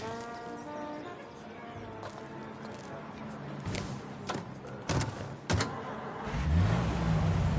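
A car in the Mafia remake video game drives past with a rising engine drone and thumping knocks, with horse hooves clip-clopping nearby and people talking over the street sounds.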